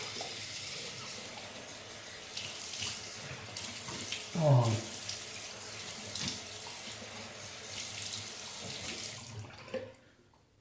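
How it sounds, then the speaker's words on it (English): Tap water runs steadily into a sink for most of the clip while rinsing after a shave, with a brief splash and a short exclamation from a voice partway through. "Rinse with cold water."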